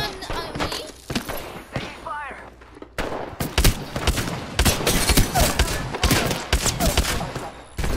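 Rapid bursts of video game gunfire in Apex Legends crack out in close, dense volleys across a firefight, with sharp shots clustering heavily in the second half while squad voices call out over the shooting.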